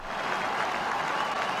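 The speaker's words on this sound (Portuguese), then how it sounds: "bastante aplaudido neste momento" Dense, steady crowd applause fills a brief stretch of Donald Trump's presidential inauguration speech, sustained and even without pause.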